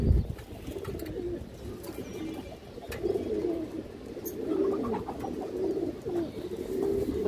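Pigeons coo repeatedly in soft rolling phrases at close range, a steady low murmuring through the whole stretch with a few brief sharp noises over it.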